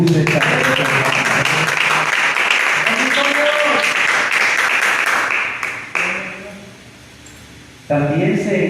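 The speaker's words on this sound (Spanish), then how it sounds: "Denle palmas a Jesús esta noche" Congregation clapping for Jesus during an evangelical church service, a dense sustained roar of palms with voices mixed in, loud and close, dropping off briefly near the end before resuming.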